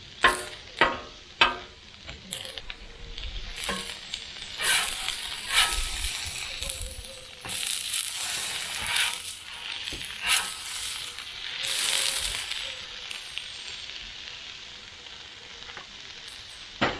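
Onions fry and sizzle on a hot cooking surface for a large homemade burger, a crackling hiss punctuated by scraping and stirring sounds from a spatula, with occasional talk in the background.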